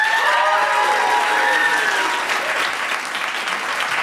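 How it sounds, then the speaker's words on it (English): A stand-up comedy crowd greets a comedian with loud, sustained applause, cheering and high whoops that rise over the clapping early on, then settle into steady, full-room applause. "Please start whooping and cheering and applauding for the amazing Harriet Dyer"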